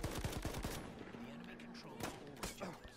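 Dense, rapid gunfire in a Battlefield 1 hardcore match, with bursts of automatic fire and single cracks layered over battle noise, continuous throughout, with a player talking briefly over it.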